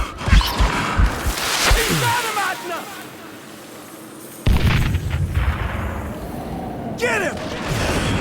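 Gunfire from the Western shooter Call of Juarez cracks out in loud bursts of shots and booms, separated by a short quiet gap, with game voices and effects mixed in.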